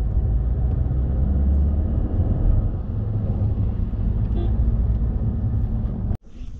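A vehicle's engine and road rumble run loud and steady on a mountain ghat road while overtaking a road roller, with a brief sharp dropout near the end.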